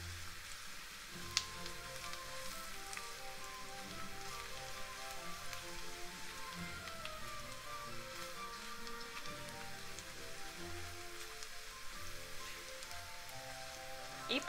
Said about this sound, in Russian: И продолжаем жарить.